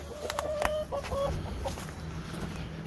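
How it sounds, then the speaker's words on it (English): Chickens cluck close by in a short run of sharp calls at the start, then quieten to a low murmur. "I didn't let the chickens out."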